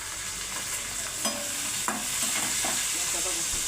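Garlic and masala fry in a pan for dhaba-style egg palak, with a steady close sizzle and a few scraping stir strokes of a spoon across the pan.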